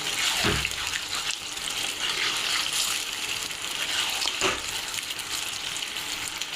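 Water poured into a hot pan of fish curry with oil, a loud hissing gush and sizzle that flares at the start and again midway, close and continuous without talk.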